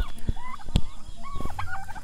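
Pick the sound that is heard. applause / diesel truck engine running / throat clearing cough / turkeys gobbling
turkeys gobbling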